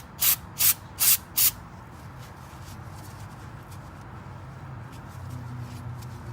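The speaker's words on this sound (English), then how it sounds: "I'm gonna go ahead and use a little bit of brake clean just to make sure I clean that off" Brake cleaner sprayed onto a brake bleeder on a Lexus LX 570, four short sharp hissing bursts up close, followed by quiet workshop background.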